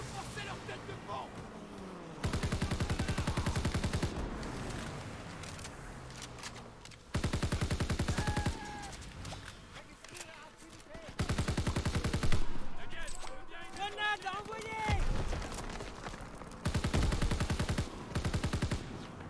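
Automatic gunfire from Call of Duty: WWII, in the Rhine finale mission, comes in several long, loud machine-gun bursts separated by quieter stretches of background battle noise.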